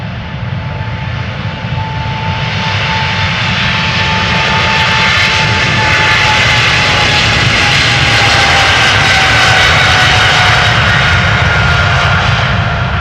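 Jet engines of a KLM Boeing 777-300ER at Amsterdam Schiphol Airport roar loudly and steadily, a broad sustained rumble with a faint rising whine swelling slightly as the aircraft passes, no talking.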